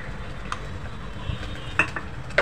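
A ghavane rice crepe cooks on an oiled pan over a steady flame, a soft continuous sizzle broken by a few sharp utensil clicks and taps, with no talking.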